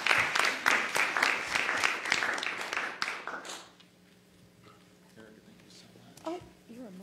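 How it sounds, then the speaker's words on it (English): Audience applause after an honors lecture, a lively burst of many hands clapping for about three seconds before fading into a quiet room with faint murmurs and a short voice near the end. "let's give Dr. Hayward another round of applause for sharing his work"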